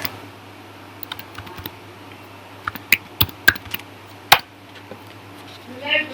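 A computer keyboard typed on in short, sparse bursts, with distinct sharp key clicks, a few louder strikes in the middle and quieter tapping around them, close up and otherwise quiet.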